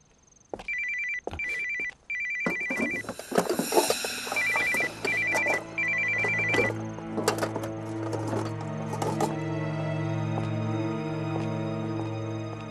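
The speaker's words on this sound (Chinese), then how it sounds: "娜娜，你怎么这个时候给我打电话？" An incoming call sets a telephone ringtone going in short repeated electronic bursts, loud and close, and the ringing gives way to a sustained tonal ring that carries on to the end with no talking.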